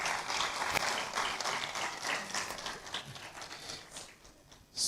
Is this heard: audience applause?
yes